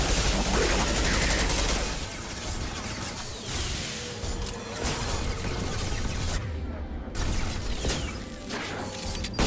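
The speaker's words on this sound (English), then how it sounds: "Firing now." Gunfire from a modded video game rattles in rapid bursts with sharp crashes and whooshing effects, loud and dense with brief gaps between volleys.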